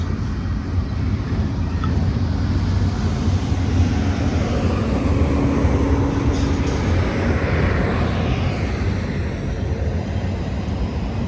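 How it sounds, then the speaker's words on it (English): A long Union Pacific intermodal freight train passing on a coastal line in Oakland, California, giving a steady, broad rumble and roar that stays loud and close for the whole stretch, with no talk. "This is the longest train we'll be going by the coast of."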